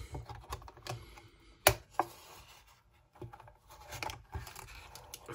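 A Hot Wheels 2023 Nissan Patrol Custom toy car package being opened by hand, close crinkling and tearing of plastic and cardboard in irregular bursts with a couple of sharper snaps.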